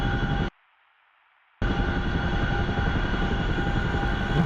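A Chinook tandem-rotor helicopter in the DCS flight simulator drones loudly and steadily with dense rotor and engine roar. The roar cuts out briefly to near-silence, then resumes at full strength.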